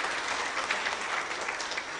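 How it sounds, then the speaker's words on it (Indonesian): Audience applauding graduates at a diploma graduation ceremony of a furniture and wood processing polytechnic, a dense, steady burst of clapping from a large crowd lasting the whole moment, with no talk. "Saya minta tepuk tangan yang meriah untuk para wisuda-wisudawan semua."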